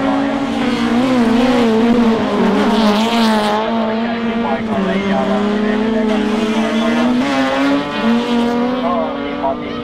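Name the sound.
rallycross cars racing and accelerating on track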